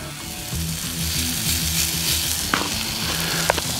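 Ribeye steak sizzling on a Blackstone griddle for a Philly soft pretzel cheesesteak, a loud, steady close hiss with a low hum beneath and a couple of sharp metal taps near the end.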